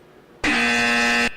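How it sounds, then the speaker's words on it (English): A loud, harsh electronic buzzer sounds once, a single steady tone that starts abruptly and holds for almost a second before cutting off, heard alone. "It even has the wrong buzzer"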